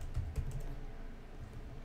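Computer keyboard typing while writing JavaScript code, a few quick clustered keystrokes near the start followed by quieter scattered taps over a low steady background, with no talk.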